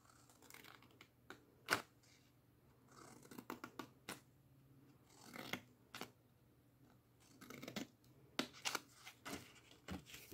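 Scissors cutting paper or card for a gift box for a cream tube, a series of quiet, irregular snips and crisp scratchy cuts close by in a quiet room, with no speech.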